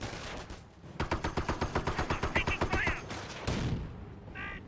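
Greyhound armored car firing on an MG42 position in Company of Heroes: a rapid, evenly spaced string of loud gun bursts lasting about two seconds, with a softer burst and battlefield rumble after it.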